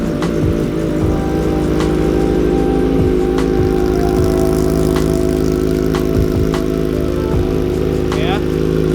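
A Kawasaki ZX25R motorcycle with a custom exhaust idles loud and close, a steady, rich engine drone throughout, with a few faint clicks and short voices over it.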